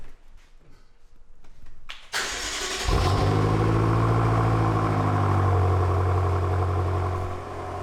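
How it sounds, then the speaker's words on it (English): BMW M6 with stock exhaust cold-starting, a brief starter crank followed by a loud flare as the engine catches, then settling into a steady, deep high idle that holds close and strong. "we'll get a little cold start, guys. We're jumping right into the BMW M6."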